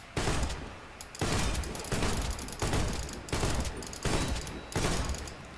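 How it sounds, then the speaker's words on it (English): Shotgun blasts in the Warface video game, about six loud sharp shots at a steady roughly one-second rhythm, each with a short mechanical tail, no voices over them. "that shotgun. It's shooting 2 bullets in a row."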